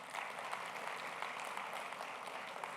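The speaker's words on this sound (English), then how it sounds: "give a big round of applause for the success that EMC had thus far" An audience at a business presentation gives a round of applause, a soft continuous patter of many hands clapping, faint and distant throughout.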